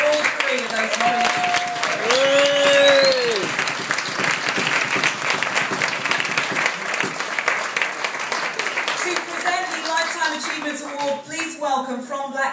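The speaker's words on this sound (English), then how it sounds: "can we just have a round of applause for all three of those nominees?" A room full of people at a music teacher awards event applauds the nominees, loud dense clapping that swells early and then continues steadily, with voices speaking over it toward the end.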